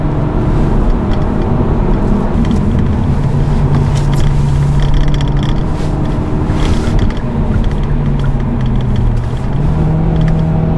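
A Hyundai i30 N Line in sport mode runs along a winding road, its loud engine droning and rising and falling in pitch through the gears over constant road and wind noise from inside the cabin.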